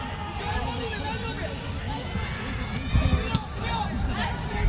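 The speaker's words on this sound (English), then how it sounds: "You can hear the screams when these exchanges start" Spectators at a professional boxing match between Junto Nakatani and Ryosuke Nishida roar and scream in a large arena, a sustained crowd din that swells with louder bursts near the end as the fighters exchange punches.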